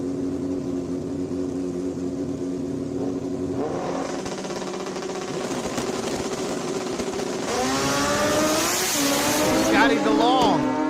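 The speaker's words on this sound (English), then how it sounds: "Scotty DeLong, Kawasaki rider, left side, flying down through there" Kawasaki and other racing motorcycles at a drag racing nationals event, engines droning under steady commentary, then louder high revving bikes sweep past with rising and falling pitch near the end.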